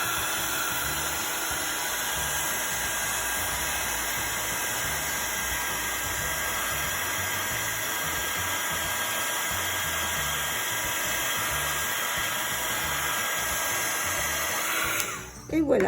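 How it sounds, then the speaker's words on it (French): A heat gun blows a steady, loud whirring rush of hot air to melt embossing powder on a stamped card, continuous until a brief bump at the end. "Vous prenez votre pistolet chauffant et vous l'approchez."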